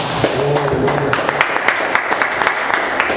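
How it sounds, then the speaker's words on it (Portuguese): A church congregation claps together after a closing prayer, a steady burst of applause with sharp individual claps, close and loud, with a brief voice early on. "Que as palmas louvem a Deus, amém."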